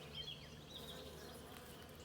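Honey bees buzz at a hive during a Middle Tennessee nectar flow, a faint steady drone with a few individual bees whining past close by, no talk.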